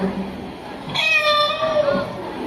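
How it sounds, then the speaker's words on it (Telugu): A cat meows in a drawn-out, wavering cry for about a second, close by, amid indoor household background noise. "పిల్లినే."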